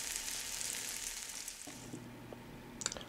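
Shrimp tossed into a pan of lo mein noodles, giving a steady, close sizzle that hisses on and settles into a lower frying crackle, with a few sharp ticks near the end.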